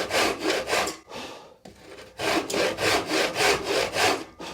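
A hand saw cuts vertically through wood in steady rhythmic strokes, a brief pause breaking the sequence before the close rasping strokes resume.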